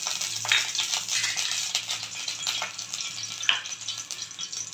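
Ghee heats in a pan over a low flame for vermicelli kheer, giving a steady, soft crackling sizzle with small pops throughout and no voices.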